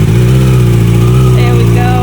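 A new motorcycle engine runs close by with a loud, steady low rumble that rises slightly as it revs, filling the whole moment while family members are faintly heard nearby.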